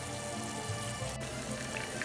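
Shrimp fry in a greasy pan over medium-high to high heat, giving a steady, close crackling sizzle with scattered pops and no voices.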